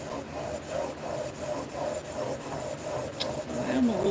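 A Buck Bros hand plane blade is stroked back and forth on a 3000 grit water stone, giving a close, steady rasping rub that repeats in an even rhythm, about two strokes per second.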